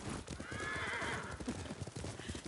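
Horse hooves clip-clop steadily while the animal is ridden in Ghost of Tsushima, with a whinny or neigh rising midway over continuous galloping and ambient noise.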